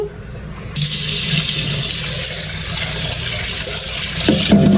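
Water pours and splashes into a cooking pot holding lentils as they are washed, a continuous rushing flow close by that starts abruptly and runs to the end.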